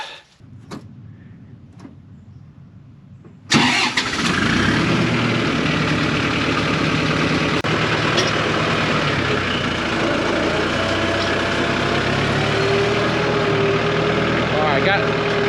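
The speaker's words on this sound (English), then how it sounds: "Let the tractor warm up a bit." A tractor engine cranks and roars to life, then settles into a steady, loud rumbling idle close by.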